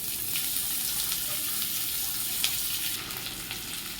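Onions sizzle steadily in a hot pan, a continuous hiss that is fairly close, with a few faint clinks from stirring and no talking.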